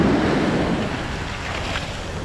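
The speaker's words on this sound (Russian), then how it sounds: "видимо, волна бьет" Surf rolls onto Kite Beach in Jumeirah under red-flag conditions, a broad steady wash of breaking water with heavy wind buffeting the microphone and no voices.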